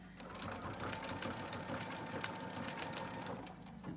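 A sewing machine top stitches fabric along the paw and inner ear of a bunny-shaped bag, running steadily and fairly loud for the whole stretch with a rapid, even mechanical chatter and no talk.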